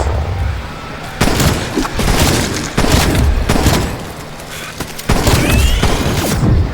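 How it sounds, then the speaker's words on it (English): Stun grenade detonations and bursts of gunfire in a video game, several sharp booming hits at irregular intervals over a continuous noisy battle backdrop. "Stun grenade out!"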